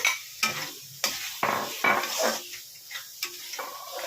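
Potatoes added to a fried spice paste for a jackfruit and prawn curry, bursts of sizzling spatter between pauses, with spatula scrapes and light clinks of the pan, close by, no voices.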